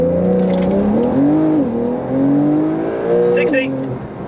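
Porsche 992 Carrera 2S accelerating hard in sport mode from standstill, engine note climbing through the revs with brief dips at gear changes, loud and close from inside the car.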